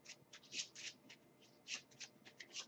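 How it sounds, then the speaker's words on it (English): A deck of cards riffled and shuffled by hand during a tabletop hero card game, a run of quick papery bursts in an uneven rhythm, close and fairly quiet with no talking. "I will have to shuffle my deck to draw"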